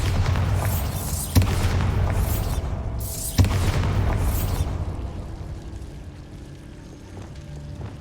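Two heavy booming blasts from the Bombarda explosion spell in Hogwarts Legacy hit a couple of seconds apart, each followed by a long rumbling decay that fades into quiet game ambience.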